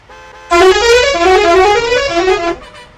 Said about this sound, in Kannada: ನೋಡ್ತಿರ್ಬೋದು ಹಾರನ್ ಸೌಂಡ್ಸ್ಗಳನ್ನು